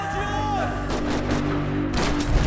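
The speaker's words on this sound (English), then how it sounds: "Another parking lot rattling with gunfire." Gunfire from a shootout in the video game Max Payne 3, a dense continuous rattle of shots across a parking lot, steady and loud throughout with some background game noise.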